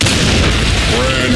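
A grenade detonates in the shooter game Blackshot, a loud, dense, rumbling blast that fills the moment amid other game noise.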